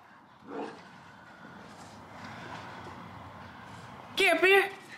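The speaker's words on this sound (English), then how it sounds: "oh, dogs are going crazy" Several dogs bark excitedly in a messy garden, with loud, close barks near the end and a person talking over the commotion.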